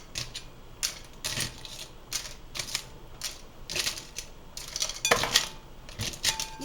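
Crabs being moved one by one into another bowl, giving repeated hard clacks and clattering knocks of shell against the bowl, close and fairly quiet in an irregular rhythm.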